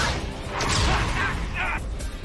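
A cartoon robot's pulse cannon blast from Transformers: Robots in Disguise bursts out in a couple of sharp energy zaps layered with whooshing effects, loud and close.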